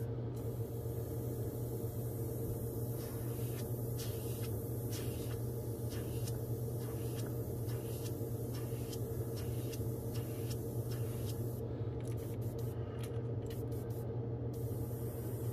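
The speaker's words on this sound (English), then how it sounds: "If it's a thin coat, just spray some air on it." Compressed air hisses in a steady, continuous stream across a freshly painted custom Megabass S-crank style crankbait lure to dry a thin coat, close and constant, with faint ticking in the background.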